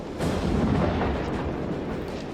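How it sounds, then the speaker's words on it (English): Cannon shot striking in the Warhammer: Dark Omen battle game, a single heavy booming impact with a rumbling, broad roar that sustains loudly for a couple of seconds without speech. "It's a reasonable hit from the cannon."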